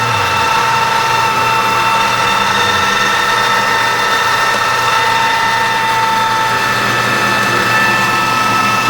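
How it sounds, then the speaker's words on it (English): A metal lathe takes a cut, giving a loud, constant mechanical drone with steady whining tones and a low rumbling hum, unbroken throughout with no talk. "I'm going to go ahead and start this next cut, and then I'll crank it in"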